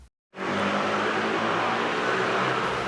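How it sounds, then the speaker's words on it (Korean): Steady, loud roar of motorcycle traffic on a road in Bangkok, engines droning continuously close by, after a brief silent start. "보시다시피 오토바이 소리 아주 우렁차게 잘 들립니다."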